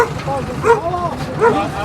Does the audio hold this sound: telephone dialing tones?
no